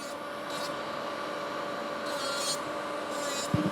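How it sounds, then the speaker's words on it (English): A nail file rasps across fiber gel nails in three short bursts of scraping strokes, close and fairly quiet, over a steady faint background hum, ending with a small knock. "I'm trying to file also very even, just so I have less to add the product on and less filing"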